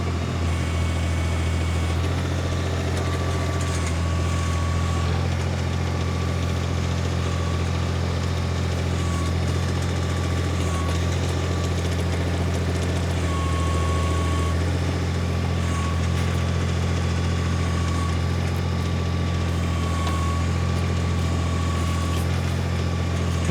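New Holland tractor backhoe with its diesel engine running at a steady, continuous idle close by, unbroken throughout with a faint high whine on top and no talk.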